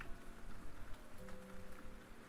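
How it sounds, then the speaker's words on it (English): Steady rain falls in a soft, continuous patter, with no voices over the sound. "We have the sounds of rain."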